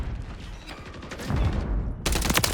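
Rapid gunfire in Call of Duty MW3 gameplay, dense bursts of shots crackling close and loud, with a sharper volley near the end and no speech.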